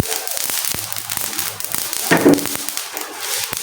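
Cumin seeds roast dry in a pan on a gas stove, giving scattered, sharp crackles and small pops that rise in a brief denser burst partway through.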